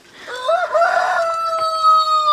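A rooster crows once, loud and close, its call rising and then holding a long drawn-out note, with no voices around it.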